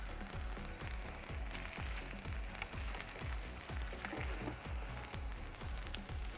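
Beef frying in a pan for a red curry sauce dish, a loud continuous sizzle with a regular rhythmic low thumping of stirring underneath, close up.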